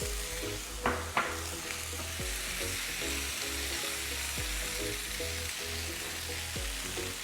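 Mushrooms and tomatoes sizzling in olive oil in a pan, a continuous close frying hiss with a couple of sharp clatters near the start and no talking.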